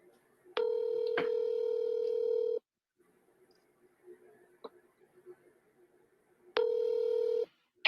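Telephone dialing tones sound as a call is placed, two sustained loud tones of about two seconds each separated by a quiet gap with faint clicks, the second tone starting near the end.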